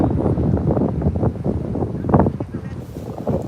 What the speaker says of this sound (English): It's a bit windy, a bit wet, guys.